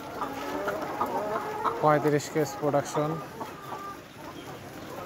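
Nourish layer hens, a cross breed at 245 days in production in a poultry farm of about 1100 birds, cluck and cackle in a busy chorus, rising to several loud calls midway, while someone talks over them.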